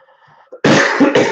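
A loud, close cough comes in two quick bursts after a faint moment of quiet.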